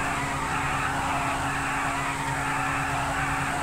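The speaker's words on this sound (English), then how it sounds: "Well, this isn't really a burnout, this is a donut." In GTA V, a car spins a donut with a continuous loud tire squeal over a steady engine roar, sustained and unbroken throughout.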